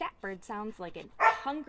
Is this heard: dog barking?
yes